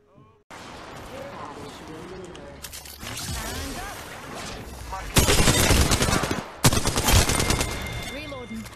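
Alternator gun firing in a video game, with loud bursts of rapid automatic fire that intensify in waves, while a voice talks over the shooting.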